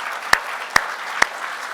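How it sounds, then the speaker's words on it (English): At a virtual NCAA conference session, applause for the panelists comes as three sharp, evenly spaced hand claps over a steady background hiss, close and isolated rather than a full crowd. "let's give them a round of applause, please."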